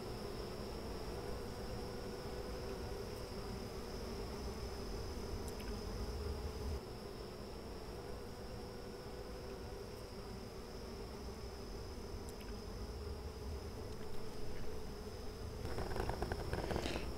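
Honey bees drone in a constant, dense buzz while a hive is sampled for a varroa mite test using rubbing alcohol, with a steady, close hum that swells slightly near the end.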